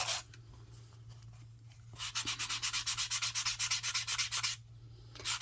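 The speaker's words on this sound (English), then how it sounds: "before I sand it some more." Hand sanding the cover of a new handmade journal, a run of about a dozen quick, even back-and-forth rubbing strokes, close and fairly soft, with brief quieter scuffs before and after.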